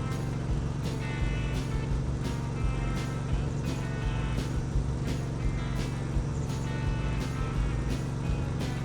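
Car driving slowly down the middle of a road in a farming simulator game, a steady low engine drone with faint periodic clicks, no talk over it.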